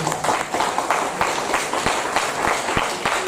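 Scattered clapping from an audience during an interview at a training institute in Pune, a steady patter of hands with a few sharper claps standing out, fairly close and moderately loud, with no voices over it.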